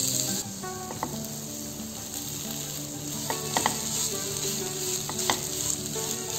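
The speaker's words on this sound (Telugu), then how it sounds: "ఇది కూడా కొంచెం ఒక 5 మినిట్స్ పాటు వేయించుకోవాలి." Two cups of grated coconut frying in ghee in a pan, a steady soft sizzle with scraping stirs and occasional metallic clicks of the spoon, close and moderately loud, no talking.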